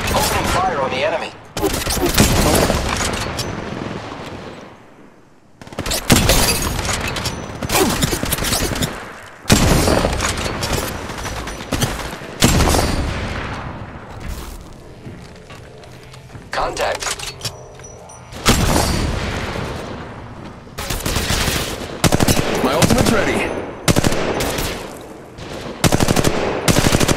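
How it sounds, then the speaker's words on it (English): Firefight in the battle royale game Apex Legends, with loud bursts of automatic gunfire and single shots coming in repeated volleys broken by short lulls, and voices heard between the shooting. "Opening fire on the enemy."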